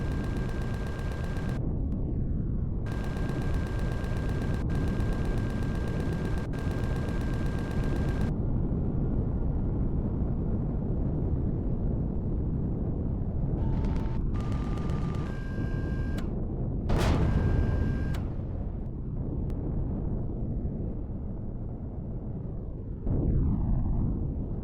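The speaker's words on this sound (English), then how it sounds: "Those are guns." Gunfire from weapons in the sci-fi survival game Empyrion Galactic Survival, heard as a few sharp bursts over a constant loud rumbling background, with a louder burst near the middle and a final blast at the end.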